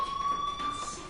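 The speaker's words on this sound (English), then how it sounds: "Hey, do you hear that fire alarm?" A school fire alarm in Life is Strange rings as a steady, continuous electronic tone, loud and unbroken, with a faint background hum and no talking.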